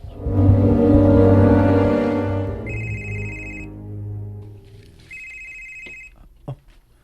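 A telephone rings in two clear bursts about two seconds apart, heard over a loud low rumble of background sound and scattered clatter in a home setting.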